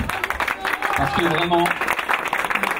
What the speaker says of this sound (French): applaudissez s'il vous plaît, c'est des personnes qui ont tenu bon